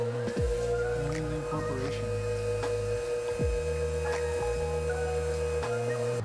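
A stand mixer kneads pizza dough for a cast iron pizza, giving a steady motorized hum with a rhythmic rising and falling whine as the hook turns, loud and continuous throughout with no talking.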